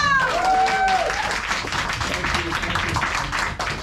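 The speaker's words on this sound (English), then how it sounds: "Round of applause for Paul Wadey." Applause from a live audience for a comedian at a charity stand-up show, loud and close at first with a whistle or cheer, then settling into steady clapping with some voices mixed in.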